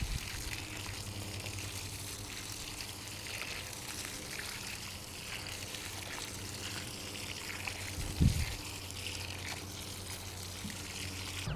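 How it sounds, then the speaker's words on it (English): Steady pouring and trickling water running continuously into the soil around a newly planted seaberry shrub, with a brief low thump near the end. "I'm just going to water this in real good."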